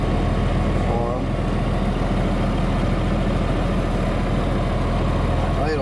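A truck engine idles too high in a parking lot after dropping off a load of stone, giving a steady, loud, low rumble that runs unbroken throughout without any talk.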